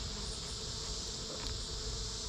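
Bees buzz at a beehive that has hive beetles, a steady, dense drone that holds close and even throughout with no talking.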